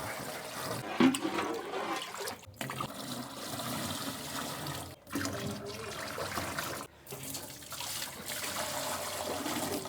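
Water gushes and splashes steadily from a jug into a container for several seconds, a continuous pouring rush with brief breaks between pours.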